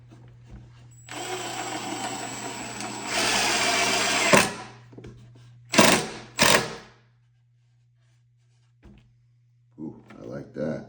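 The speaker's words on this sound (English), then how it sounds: "Four screws, just gonna go straight in." A power drill drives screws into a drawer face in several bursts, a close whirring motor with short pauses between runs, ending in brief quiet and a few faint knocks.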